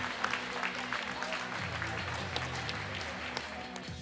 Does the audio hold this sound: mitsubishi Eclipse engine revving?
no